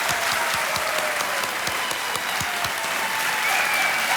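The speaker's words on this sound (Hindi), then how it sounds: "एक बार तालियां बज जाएं फिर इनके लिए।" Studio audience applause on a television quiz show, a steady, full wash of many hands clapping, with some individual claps standing out in an uneven rhythm.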